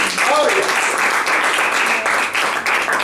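Audience applause fills a concert hall in honour of a guitarist, a dense, steady wash of clapping close and loud for the full length, with some crowd voices mixed in.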